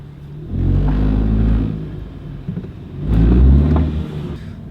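A car engine that has dropped on a worn gearbox mount, heard close: two loud swelling rumbles of revving, each lasting about a second and a half with a quieter idle between them. No one speaks.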